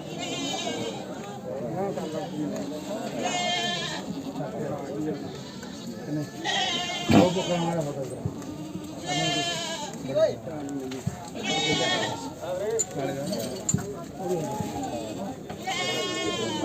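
Goats bleat repeatedly in bursts at a goat market, mixed with people talking nearby throughout.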